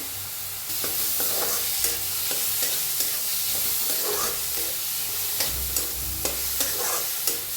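Finely chopped onion for bread pakora fries in a pan with a constant sizzle, while a spatula scrapes and taps it in regular strokes, close and clear and with no voices.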